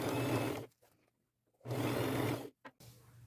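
A sewing machine stitches a ruffle onto a dress in two steady whirring runs separated by a pause, close and fairly loud with brief motor blips after.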